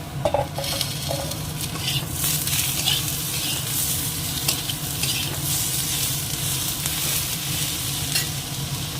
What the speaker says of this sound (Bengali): এবার এর মধ্যে টমেটো আর কাঁচা লঙ্কাটাও দিয়ে দিচ্ছে